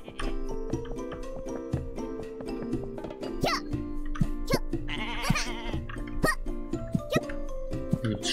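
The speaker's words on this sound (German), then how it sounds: "Hier gibt's Schafe." Sheep bleat a few times amid busy sounds in the video game Koa and the Five Pirates of Mara, with soft plops and clicks scattered over a continuous musical background.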